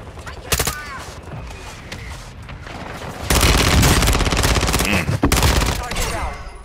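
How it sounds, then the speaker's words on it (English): A friendly mortar strike in a multiplayer shooter game, heard as a loud, dense barrage of explosions and gunfire that swells partway through and keeps going, with occasional faint game sounds underneath. "Friendly mortar strike on the way"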